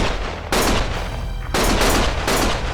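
Bursts of gunfire from the video game Lost Judgment, loud and close, arriving in three dense volleys at roughly one-second intervals with a sustained noisy background between them.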